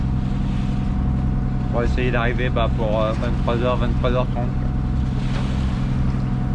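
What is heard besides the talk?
sailboat's engine running while motoring across the Bay of Biscay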